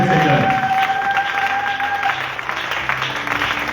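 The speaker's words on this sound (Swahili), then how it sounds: "Pigia tena Bwana makofi mazuri." A church congregation claps for the Lord in a worship service, a dense burst of applause from many hands that holds steady and then eases slightly, with voices mixed in.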